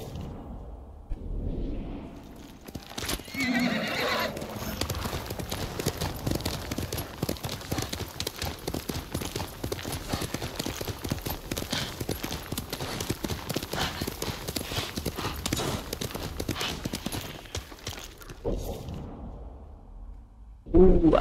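Horse galloping in the video game Ghost of Tsushima, a fast, steady clip-clop of hooves running for most of the stretch, with a brief whinny early on and quiet moments at start and end.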